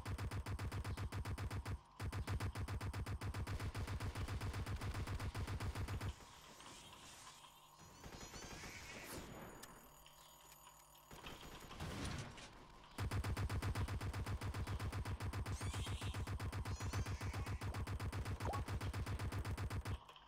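Rapid automatic gunfire in a video game, continuous loud rattling bursts that break off briefly for a reload and then resume.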